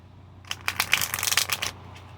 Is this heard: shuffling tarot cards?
yes